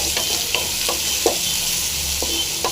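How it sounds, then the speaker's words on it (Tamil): Onions frying in a pan while being stirred: a constant loud sizzle with sharp scraping strokes of the spoon every half second or so, close and with no talk. "வெங்காயத்தை சூப்பராக ஃப்ரை பண்ணிங்க"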